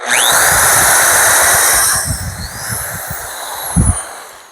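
Two power drills drive screws into wood while a trellis is built: a steady whirring drill run, then bursts of grinding and thumps as the screws bite in, loud and close.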